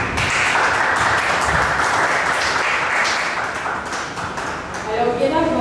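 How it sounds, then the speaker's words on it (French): A public audience at a talk on Haitian-Dominican relations applauds the government again, a continuous wash of clapping with a voice talking over it near the end. "Merci aussi d'applaudir encore une fois le gouvernement."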